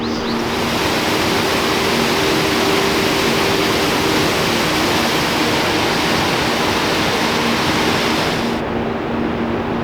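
Water crashes steadily over a waterfall beside historic mill ruins in Mill City Park, downtown Minneapolis, a loud, continuous broadband roar with no voices, dropping off abruptly near the end.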